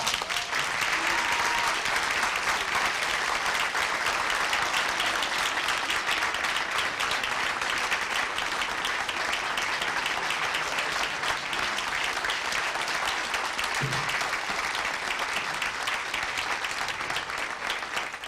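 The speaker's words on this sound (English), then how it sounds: "Let's give him a round of applause." Audience applause for Mayor Albert Vera at an American Heart Association, Culver City Division event, a steady, sustained wash of clapping from a large room that holds evenly for the whole stretch.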